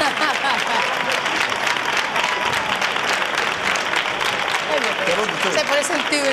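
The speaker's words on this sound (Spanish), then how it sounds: "Manuel Gil, esto se merece un aplauso" Clapping from a studio audience on a summer club show, honouring Manuel Gil, a steady roar of hands with voices and cheers mixed in throughout.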